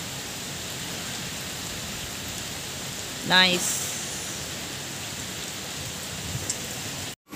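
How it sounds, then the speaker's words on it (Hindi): Steady pre-monsoon rain hisses evenly throughout, with a brief spoken word partway through. "अच्छी बारिश, प्री मॉनसून आ गया है गाइस"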